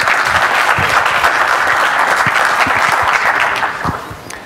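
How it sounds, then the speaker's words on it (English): Audience applause at a FOSDEM 2014 open-source conference talk, with steady dense clapping from a room of listeners that holds loud and even, then tapers off toward the end. "Let's applaud him."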